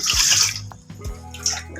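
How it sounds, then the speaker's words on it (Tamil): Water is poured from a glass onto rice in a pot while making sweet pongal, giving two close, splashy gushes separated by a brief pause, with no talking over them. "இப்போது 1 கிளாஸ் அரிசி எடுத்துருக்கோம் இல்லையா, அதுக்கு 3 கிளாஸ் தண்ணி ஊற்றிக்கலாம்."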